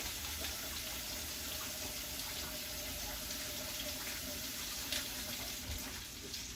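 A steady, hissing rush of tap water pours into a saucepan, filling it about three-quarters full, continuous and fairly quiet throughout, with no one speaking.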